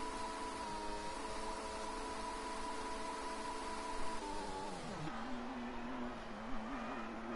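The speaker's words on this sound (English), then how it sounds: "in the gravel trap they go, and the donuts begin" Race cars in a racing video game spinning donuts in a gravel trap after a Brazil round, a faint steady engine whine with wavering pitch that dips and warbles as the cars rotate.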